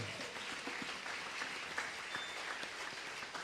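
A church congregation applauds in praise of Jesus Christ during a Sunday service, a steady wash of many hands clapping at moderate distance with a few murmured voices underneath.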